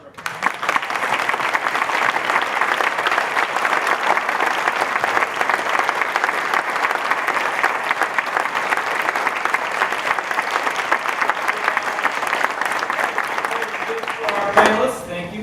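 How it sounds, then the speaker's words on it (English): Sustained, dense applause from a crowd fills the room at a panel forum, steady and loud throughout before trailing off at the end. "Another round of applause for"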